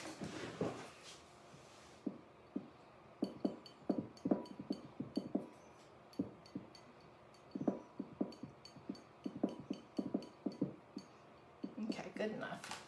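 A stir stick mixes diluted ink in a small container, making a series of faint, close, irregular clinks and taps in a quiet room, with some soft talking.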